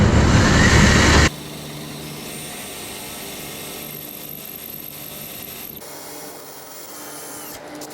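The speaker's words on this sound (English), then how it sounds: "So here's the hole we're trying to drill." A loud power drill whines and grinds briefly at the start while drilling holes in the frame of a 1955 Chevy, then cuts off, leaving quieter mechanical hum and faint rattling.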